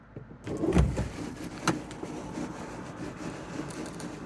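A Volvo 240 sunroof mechanism runs with a brief motorized whir and a faint squeal, close and fairly quiet, followed by a low continuing mechanical hum with no speech.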